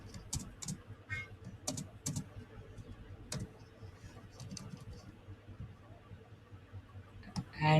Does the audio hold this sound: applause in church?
no